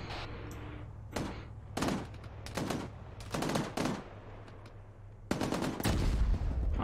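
Gunfire in the Arma 3 military game in a desert setting, with bursts of shots spaced through the clip over a low steady rumble, growing heavier and more continuous near the end.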